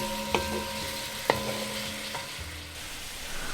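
Mackerel rundown simmering and cooking down in a pan, a steady soft sizzle with a few light clinks of utensils against the pan, no talk.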